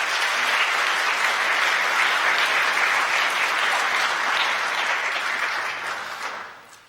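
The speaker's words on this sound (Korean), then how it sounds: "여러분들 환영의 박수 부탁드리겠습니다" A church congregation applauding to welcome four new young members, dense sustained clapping filling the room for several seconds before tapering off at the end.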